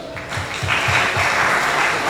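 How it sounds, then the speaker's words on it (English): A room of guests at a luxury birthday celebration in Paris applauds the host's dad, a dense burst of clapping that swells and holds steady, with a few sharper claps standing out near the start. "Another round of applause to my dad"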